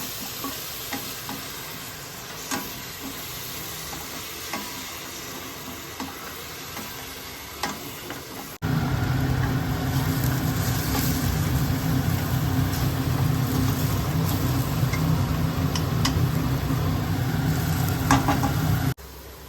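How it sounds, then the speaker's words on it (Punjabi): Ground onion, garlic and ginger frying in a pan for lauki kofta curry, with occasional stirring scrapes over a soft sizzle, then a sudden louder, steady roaring hiss that carries on to the end, no talking. "ਇਹਨਾਂ ਨੂੰ ਵੀ ਅਸੀਂ ਕੁਝ ਪਾ ਕੇ ਲਸਣ ਪਿਆਜ਼ ਦੇ ਨਾਲ ਹੀ ਭੁੰਨ ਲਵਾਂਗੇ"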